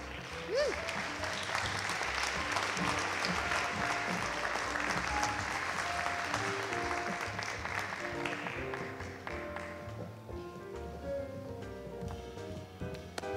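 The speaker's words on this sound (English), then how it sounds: "How about another round of applause?" Audience applause at an awards ceremony, a broad sustained wash of many hands clapping that gradually thins and fades toward the end, with some faint voices and music tones underneath.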